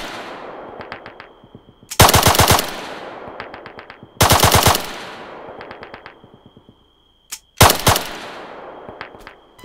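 Automatic gunfire in the military shooter Arma III: three loud sustained bursts rattle out at even intervals, separated by short quieter clusters of distant single shots.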